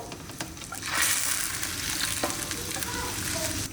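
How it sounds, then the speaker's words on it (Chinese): Duck blood dropped into a pot of water for blanching while preparing home-style maoxuewang sets off a loud, steady frying-like sizzle and bubbling that swells about a second in and carries on without talk. "鸭血下锅"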